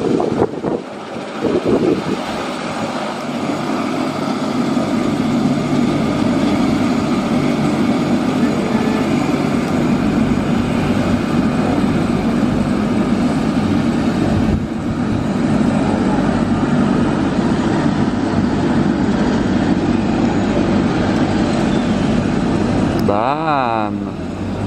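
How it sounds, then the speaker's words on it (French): Helicopters and gusting wind at an outdoor delivery of a 2021 BMW M4 Competition by helicopter: a loud, steady rotor and engine roar mixed with buffeting wind noise throughout, with a brief whine near the end. "On va rien entendre avec le vent et les hélicos."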